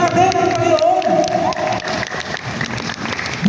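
Loud applause from a church congregation at a thanksgiving celebration, steady clapping and crowd noise filling the whole stretch with a few voices rising over it.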